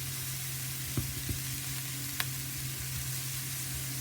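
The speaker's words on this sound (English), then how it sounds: "The garlic is diced up fine, and I'm going to add that to the onions. And I'm just going to lightly cook these." Finely diced garlic and onions cooking lightly in a pan on medium heat, a quiet steady sizzle with a few soft clicks of stirring, no talking.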